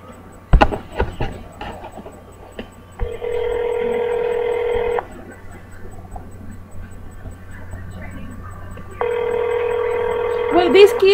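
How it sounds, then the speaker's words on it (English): Telephone tones ring out during a prank call in two long, steady bursts, loud and close, with a low mains hum underneath and a few clicks at the start. "I keep calling Dustin Tate. I'll leave him a voicemail."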